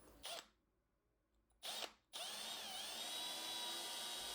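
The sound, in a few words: drill bit drilling resin plastic model body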